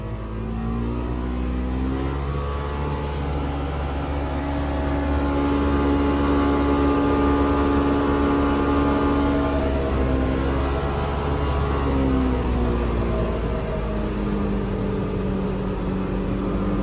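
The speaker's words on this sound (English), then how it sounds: "So that was uphill, giving it a lot of RPM." A Ford Expedition engine revs hard at high RPM while climbing uphill, a loud, steady drone with harmonics that rise and shift, heard close and alone for the whole stretch.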